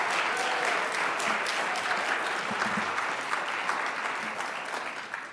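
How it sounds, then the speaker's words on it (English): An audience at an MLK celebration applauds the speakers, a full, steady roar of clapping from many hands that stays even for several seconds before tapering off slightly at the end. "Let's do one more round of applause for those wonderful speakers."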